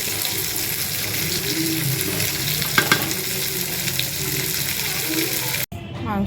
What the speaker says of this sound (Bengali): আর এদিকে হচ্ছে মাংসতে জলটা ঢেলে দিয়েছি।